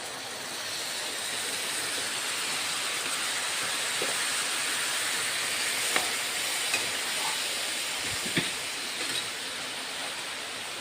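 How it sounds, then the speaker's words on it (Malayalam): Vinegar poured into hot tuna fish pickle sets off a loud, steady hiss that holds evenly throughout, with a few faint clicks and knocks near the end. "ഇനി ഇതിലേക്ക് അല്പം വിനാഗിരി ഒഴിച്ചു കൊടുക്കാം"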